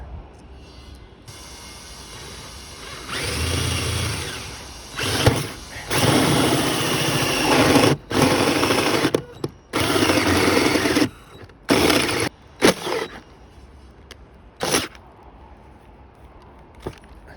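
A power tool cuts through a camper van's roof to fit a wind-powered extractor fan, in loud, harsh bursts that start and stop repeatedly, with short pauses between cuts and no talking.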